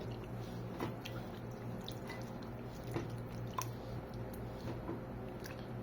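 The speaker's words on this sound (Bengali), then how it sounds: "আমি ভালোভাবে এটাকে কষলিয়ে নেব, যতটুকু পারি আর কি ম্যাশ করতে" Boiled tomatoes are mashed by hand for a simple Bengali bhorta, giving quiet wet squelches and soft drips at close range against a faint steady hum.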